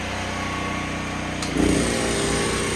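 An air compressor powered by a DuroMax XP13000HXT generator: the steady engine drone grows louder and heavier about halfway through as the compressor kicks on and loads the generator.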